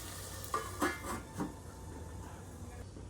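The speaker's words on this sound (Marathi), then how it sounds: "यावर मी आता झाकण ठेवते." A lid is set on a pan of cooking pav bhaji with bell pepper and tomato, giving a few quick clanks near the start over a steady low sizzle and kitchen hum.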